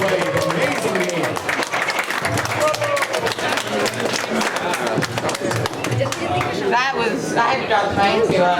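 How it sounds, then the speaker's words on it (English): Loud, sustained audience applause fills the room after a women's chess game win at a pop-up chess demonstration, dense clapping mixed with crowd chatter and cheering voices throughout. "I had to drop the mic to applaud for that"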